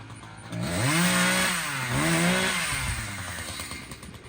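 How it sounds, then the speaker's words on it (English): A chainsaw runs close by, its engine revving up and dipping twice with a rising and falling whine before settling into a steady idle-like drone. "So he's done cranked up the chainsaw and went over there."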